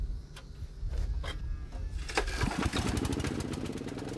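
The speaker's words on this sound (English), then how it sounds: "Start the generator." A small portable generator, used to power a Grundfos SQFlex pump system, cranks and catches at around two seconds, then runs with a steady, close, loud engine drone and mechanical rattle.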